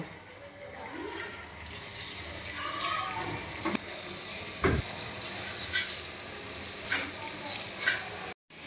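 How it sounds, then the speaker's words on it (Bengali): Mung puli pitha dumplings sizzle in hot oil as they are dropped in one by one, a steady crackling fry with a few sharper splashes and clinks of a utensil. "তেল গরম হয়ে গেছে এবার আমি এক এক করে এর মধ্যে পুলি ছেড়ে দেব"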